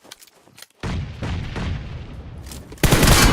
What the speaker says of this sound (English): a couple of more nades, couple of molotovs being thrown as well